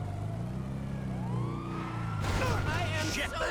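A police car siren from GTA 5 wails steadily, its tone gliding up and down over low engine rumble, then joined by a burst of louder, busier game noise near the end.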